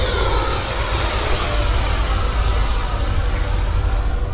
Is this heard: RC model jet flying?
yes